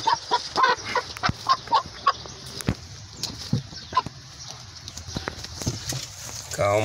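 A hen about five months old, sick with infectious coryza, gives scattered short clucks and rough calls close by, while people talk over it and handling noises come and go.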